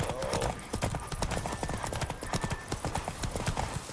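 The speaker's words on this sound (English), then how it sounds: "Don't spare the horse!" Horse hooves gallop in a video game, a fast, steady clip-clop drumming close up with a brief whinny near the start and no talking.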